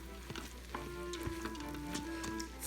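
Rice frying in sauce inside an Instant Pot crackles with a steady, close sizzle while being stirred, with soft scrapes of the spoon against the pot bottom and no talking.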